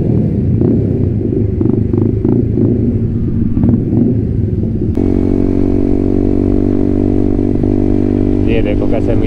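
A Yamaha R15M motorcycle engine fitted with a full-system SC Project exhaust idles with a rough, uneven rumble, then steps up to a louder steady drone, heard close, with someone talking over it.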